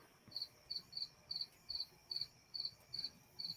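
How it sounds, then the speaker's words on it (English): Crickets chirp outdoors at night in a steady, evenly spaced pulse of short high trills, about two per second, faint and distant over low background hiss. "y'all hear these damn crickets in the background again"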